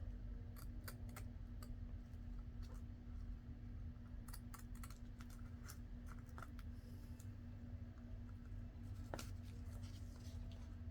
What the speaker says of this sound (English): I'll trim this off.